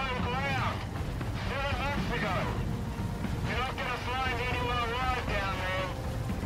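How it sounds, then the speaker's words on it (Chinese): A helicopter in Sons of the Forest drones steadily with a dense, continuous rotor and engine rumble, while someone talks over it throughout. "我们现在人呢在那个直升机上面，要去执行一个机密任务"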